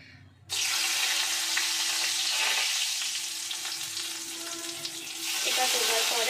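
Whole garam masala spices drop into hot oil in a wok and sizzle loudly, a sudden close frying hiss that holds steady for several seconds.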